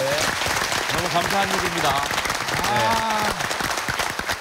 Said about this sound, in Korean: 한번 우리 박수 한번 보내드릴까요?